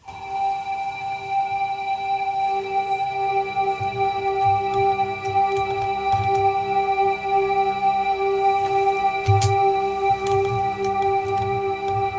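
A synth pad processed with Valhalla reverb and Crystallizer effects holds sustained tonal layers with a shimmering edge. Soft ticking, clicky textures sit underneath, and the sound stays steady and moderately loud with no voices.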